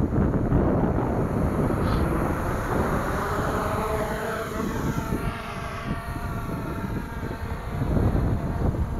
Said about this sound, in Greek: Βλέπουμε ότι έχει λίγο αέρα